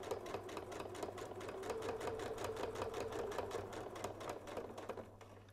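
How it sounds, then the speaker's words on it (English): A sewing machine runs steadily while stitching in the ditch along a quilt seam, giving a fast, even mechanical chatter with a constant low motor hum. The needle beats go on without a break and slow only near the end. "just stitching in the ditch all the way down to the end of your seam"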